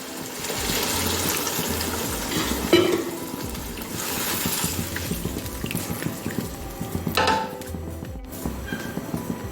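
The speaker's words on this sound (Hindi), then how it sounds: "अब मैं इनमें पानी शामिल करूंगी।" Water poured into a pan of fried potatoes and peas while cooking aloo matar pulao, giving a steady sizzling, gushing wash with a couple of louder splashy bursts, close and continuous with no talking.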